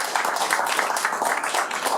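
An audience at a Bristol event claps together in a dense, steady round of applause that carries on at even strength throughout.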